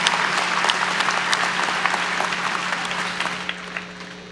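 Audience applause at a Texas A&M University-Kingsville fall commencement ceremony, a dense, steady clapping from a large crowd that holds strong throughout and gradually thins toward the end.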